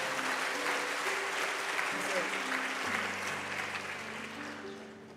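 A congregation applauds warmly during a Korean Presbyterian Sunday afternoon church service, a dense, sustained clapping that fills the room and slowly tapers, while a voice speaks faintly over it.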